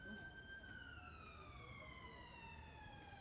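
An ambulance siren wails in the distance with a steady, slowly falling tone, faint beneath a constant background rumble at a rugby match.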